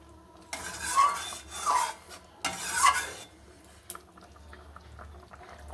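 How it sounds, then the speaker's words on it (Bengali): Fried paneer tipped into a pan of curry and stirred, giving two bursts of scraping and clattering against the pan around the first and third seconds, then quieter scraping with faint kitchen noise. "ভেজে রাখা পনিরগুলো ঢেলে দিলাম।"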